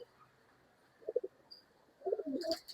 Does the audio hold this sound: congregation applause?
no